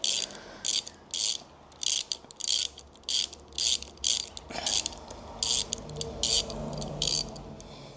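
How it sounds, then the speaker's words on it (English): A torque wrench clicks in short ratcheting bursts while MSCMoto Apex bar mounts are tightened on a KTM 890 SMT motorcycle. The crisp bursts repeat at a fairly regular rhythm, close and clear, with no talking. "Now I gotta check the torque settings."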